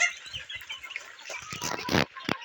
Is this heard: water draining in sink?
no